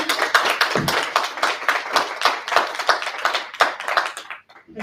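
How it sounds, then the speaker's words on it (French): An audience at a talk on third places as learning spaces claps for a speaker, a few close, distinct pairs of hands striking in an uneven rhythm before dying away at the end. "On peut applaudir Karine."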